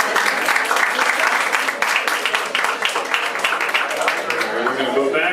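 Audience applause at a film festival filmmakers' panel, brisk steady clapping from a crowd, loud and close, tapering off at the end with a voice starting underneath.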